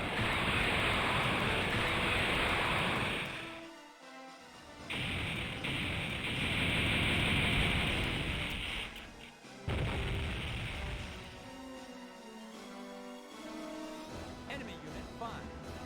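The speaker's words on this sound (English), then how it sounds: "All guns, begin barrage." Massed gun batteries fire an all-guns barrage in the space-combat game Infinite Space: dense, continuous booming and roaring that swells and dips over the whole stretch, with brief lulls between heavy volleys.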